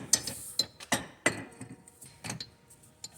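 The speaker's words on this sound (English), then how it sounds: "I've got my torque wrench set to 33 foot-pounds" A torque wrench set to 33 foot-pounds tightening the suspension linkage on a 1993 Saturn SL2, giving several sharp, close metallic clicks and ratchet ticks at an uneven pace.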